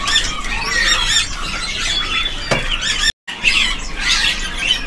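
Caged birds at the Pramuka bird market, among them a young cucak rowo songbird, give shrill squawks, squeals and chirps close by, with a dense busy market hubbub behind and a brief dropout near the end.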